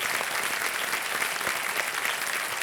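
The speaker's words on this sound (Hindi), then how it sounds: "तालियां बजाएं इनके लिए।" Studio audience at the KBC game show breaks into steady, full applause, a thick continuous roar of clapping from a large crowd that holds at an even level throughout.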